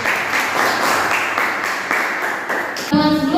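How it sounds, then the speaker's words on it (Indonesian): A classroom of students breaks into steady, close applause for a classmate, a dense patter of clapping that runs for a few seconds before a voice starts speaking as it ends. "Bagus, tepuk tangan dulu."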